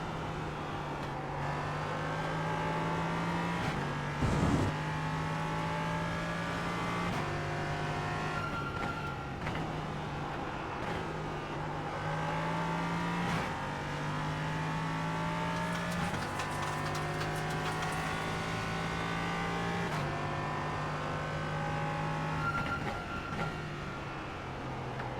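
An LMP3 prototype race car laps Watkins Glen in a sim racing game, its engine whining steadily up and down through the gears for the whole lap, with brief tire squeals and rival cars passing by.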